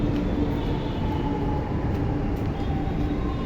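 A steady, continuous rumble of a metro train running nearby at Ashok Nagar, Chennai, broad and even throughout with no distinct pauses.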